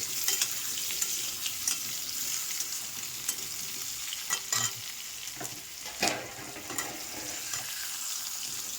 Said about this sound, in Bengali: সবজিটা আর বেশি ভাজবো না সুন্দর ভাজা হয়ে গেছে